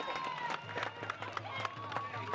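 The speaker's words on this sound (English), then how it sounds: "this crowd really showing their support for all these athletes" A crowd in an athletics stadium cheers on the athletes with a dense, continuous roar of voices and scattered claps, while an announcer talks over it.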